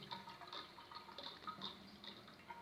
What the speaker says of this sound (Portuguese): por que a caixa d'água faz esse barulho